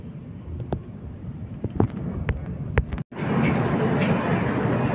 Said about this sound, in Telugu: మన ట్రైన్ అయితే గుడివాడ జంక్షన్ నుండి అయితే బయలుదేరిపోయింది.